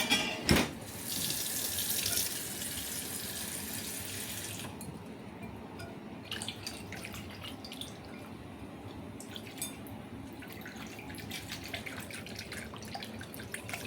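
Running tap water splashes onto a bowl being washed in a sink, a loud rushing spray at first that gives way to quieter trickles, drips and clinks.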